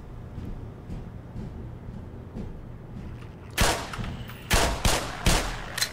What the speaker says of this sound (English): the gunshots being louder in enclosed spaces is such a good touch